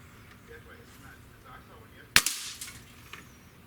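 A Sig Sauer ASP20 break-barrel air rifle's trigger is pulled against a Lyman trigger gauge and gives one sharp, loud snap. A brief ringing tail follows, with quiet room noise before and after.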